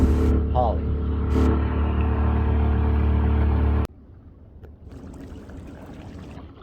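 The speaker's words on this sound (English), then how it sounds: "We're off from Rainier, motoring away." A Santana 28 sailboat motors away from Rainier on the Columbia River, its steady engine drone loud and continuous for about four seconds. Then a quieter, softer wash of wind and water takes over.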